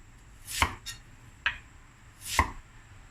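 A knife cuts Chinese yam on a board with four separate crisp chops, spaced unevenly across a quiet kitchen background.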